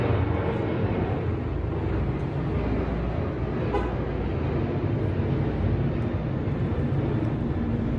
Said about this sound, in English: My bad for the airplane, guys.